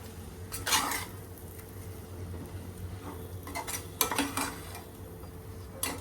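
Mutton kheema is mixed in a pan with a spoon, making intermittent clinks and scrapes of metal against the pan over a quiet background.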